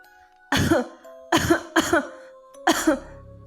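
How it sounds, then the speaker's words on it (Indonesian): Four sharp, close coughs come in quick succession, a pause, then a final cough, each harsh and throaty in a quiet room. "tiba-tiba terdengar suara batuk yang membangunkanku"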